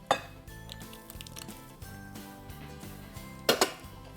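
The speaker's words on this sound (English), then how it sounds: "then you simply just mix the wet ingredients into the dry ingredients" Wet ingredients being stirred into dry Christmas pudding muffin batter in a bowl, soft scraping and clinks of a spoon against the bowl, with two sharper knocks near the end, close and fairly quiet.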